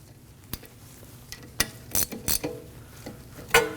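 Ratchet snugging the rear brake caliper bolts on a 2014-2019 Cadillac CTS: several short, sharp metallic clicks and bursts of ratcheting, spaced irregularly and close by, with no talking.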